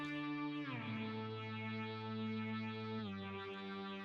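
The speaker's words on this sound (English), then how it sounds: "This is a plugin of a hall reverb." A sustained synth chord with rich harmonics shifts pitch twice, bathed in a long, washy hall reverb that keeps the sound full and spacious throughout.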